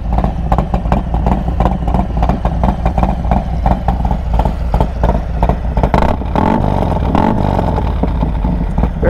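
A 2021 Harley-Davidson Road Glide Special with S&S 475 cams and Bassani exhaust idles loudly nearby, its exhaust thumping in a fast, uneven rhythm, swelling briefly as the throttle is blipped.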